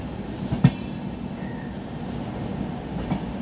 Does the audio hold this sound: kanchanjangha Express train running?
yes